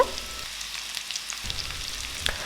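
Sliced onions, cut long and thin, hiss and sizzle steadily in hot oil in a pan for egg roast, with a brief quieter dip before the frying crackle returns, and no one speaking.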